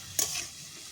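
Tender young eggplant pieces hit hot oil in a pan, giving a brief burst of sizzle and stirring that quickly fades to a low background hiss.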